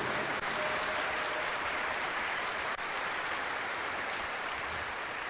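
Congregation applauding during a Catholic Mass homily in a church, a dense, steady wash of clapping that holds strongly and evenly from start to finish.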